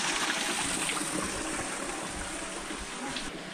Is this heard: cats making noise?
no